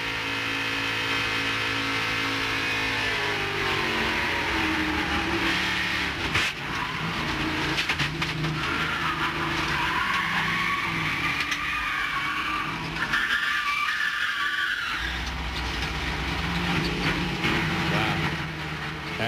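In-car audio from a stock race car during a 1998 race, its engine roaring and shifting pitch, then tyres skid and something impacts. The sound is loud and continuous.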